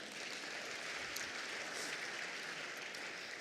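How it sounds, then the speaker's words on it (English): An audience at a business keynote event claps steadily, with dense, even applause that holds at the same level throughout. "So a round of applause."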